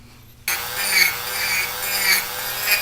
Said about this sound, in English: So I'm going to cut a groove right in there with the Dremel.